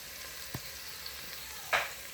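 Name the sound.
onions and grated garlic frying in a pan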